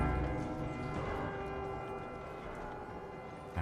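Bells struck in a video game, ringing with a dense metallic, resonant clang that sustains evenly at moderate level across the whole moment without talk.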